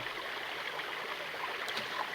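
A creek flows over rocks in a steady, faint wash of running water that stays even throughout, with no voices over it.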